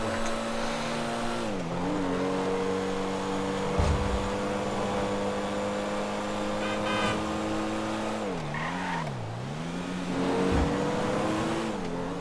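Pfister Comet Retro Custom sports car in GTA Online, engine droning and revving up and down with gear shifts and brief tire squeals as it drives, a continuous loud close-up roar with no talk.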